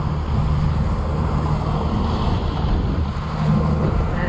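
Wind and choppy, whitecapped waves heard from a Robalo 24 fishing boat just out of Boca Grande Pass, a loud steady rush of wind buffeting the microphone over churning water, with no voices.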